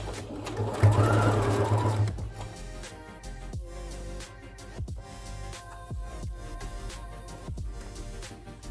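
A sewing machine stitches an old t-shirt doormat, first in a loud continuous whir, then in short bursts of needle clatter separated by pauses, close by and with no talk.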